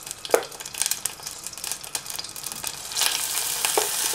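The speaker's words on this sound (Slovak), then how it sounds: "Medzi tým sa nám maslo rozpustilo. Pridáme doň teraz hladkú múku." Plain flour frying and being stirred in melted butter in a pan, a soft continuous sizzle with scraping stir strokes and brief crinkly accents, close and moderately quiet with no talking.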